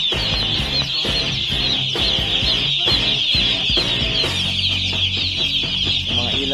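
A crowd of 500 Class A broiler chicks freshly delivered to a farm cheep continuously and loudly, a dense overlapping chorus of high chirps with some thumps and shuffling beneath.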